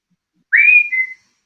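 A single person whistles one short, clear rising-then-falling note, loud and close, with silence before and after.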